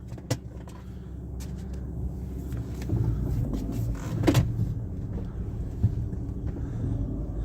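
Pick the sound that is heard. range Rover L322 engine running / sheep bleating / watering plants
range Rover L322 engine running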